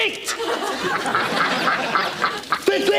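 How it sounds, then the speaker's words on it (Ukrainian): A duck quacking repeatedly in quick, raspy bursts, close and fairly loud, mixed with other lively noise throughout. "Чого розкрякалась дурнувата?"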